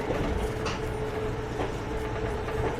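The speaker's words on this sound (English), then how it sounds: "this is the Northeast Regional Train that passes through several states on the east section of the United States" An Amtrak Northeast Regional passenger train runs on its rails, heard from inside as a steady, loud rumble with soft clacks recurring throughout.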